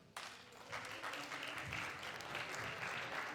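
A seminar audience claps quietly after a talk, a soft steady patter of hands that starts abruptly and holds at a low level, with faint murmuring underneath.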